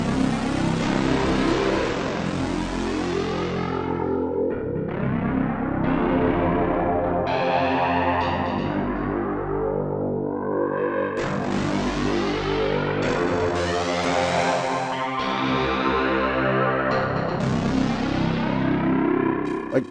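A Dawesome Myth software synth with its low-pass filter re-engaged plays a dense, distorted, continuously evolving tone whose brightness rises and falls in repeated sweeps, loud and steady throughout with no talking.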